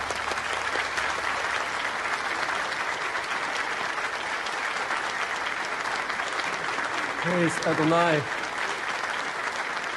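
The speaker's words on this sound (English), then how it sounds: "Listen to the applause." A crowd claps and cheers in a scene from The Chosen, loud and dense applause throughout, while someone briefly speaks over it near the end.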